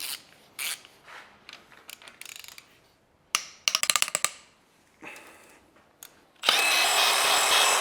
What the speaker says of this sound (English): we need to remove the head bolts from outside to in